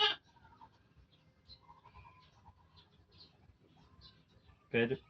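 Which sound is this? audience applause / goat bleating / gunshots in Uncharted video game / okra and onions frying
goat bleating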